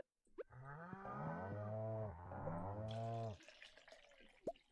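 A cow in a farming video game gives a long, drawn-out moo while being milked. The call is low and close, and a short bright plink follows it.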